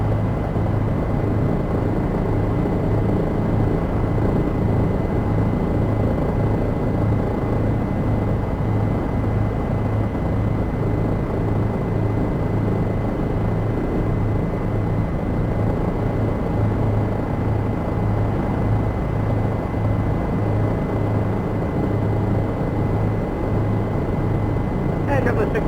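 Bell 407 helicopter engine in a flight simulator game, landing from Anchorage to Wasilla: a steady, loud, continuous rotor and turbine drone with no change for the whole stretch.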